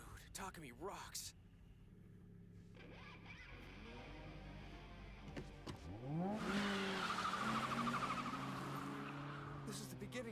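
Two Eight-Six cars battling in an anime mountain race, tires slipping and squealing: engine rumble and a rising, wavering screech build toward the end, mixed with talking voices.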